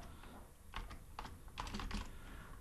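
Clicks from typing on a computer keyboard while coding a PHP and MySQL food order website. The keystrokes come in short, quiet bursts, close and fairly faint, with no talking.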